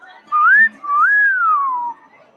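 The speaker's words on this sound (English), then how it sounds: "You whistled for yourself." A person whistles two clear, close tones, a short rising note followed by a longer one that swells and then slides downward, loud against a quiet background.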